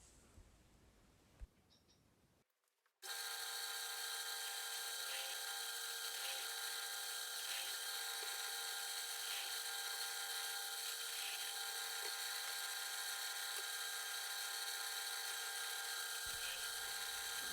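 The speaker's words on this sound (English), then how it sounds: "We're back over at the drill press now, again making pilot holes." A drill press bores pilot holes in wood, starting with a few quiet knocks before the motor kicks in to a loud, steady high whine that runs for about thirteen seconds, alone without talk.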